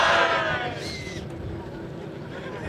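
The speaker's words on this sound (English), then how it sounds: "That's some more noise from the crowd there." A crowd at the Australian Rover Challenge lets out a distant cheer and hubbub, fading quickly into a murmuring background with outdoor noise.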